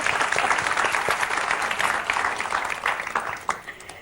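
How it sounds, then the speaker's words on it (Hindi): A studio audience at a comedy show claps loudly and continuously, a dense even wash of applause that thins slightly toward the end. "अभी एक बार जोरदार तालियां वापस से।"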